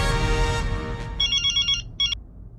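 A telephone ringtone on a call placed to Mehta Sahab sounds in two bursts of electronic warbling tones, the second shorter, following a stretch of background music.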